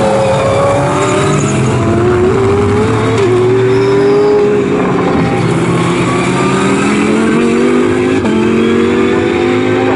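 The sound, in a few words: GT Cup race cars racing at Snetterton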